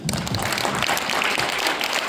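Dense, steady applause fills a hall at an ensemble concert as guests are honoured, loud and continuous throughout with no pauses.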